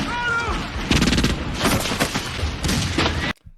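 Bursts of rapid gunfire from the movie The Crow, loud and dense, with several volleys crackling over shouting voices before cutting off abruptly.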